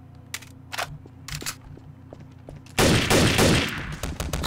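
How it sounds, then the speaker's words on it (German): Gunfire in the Garry's Mod game mode Trouble in Terrorist Town: a few scattered single shots, then a loud, sustained burst of rapid automatic fire close by. "Er hat auf mich geschossen."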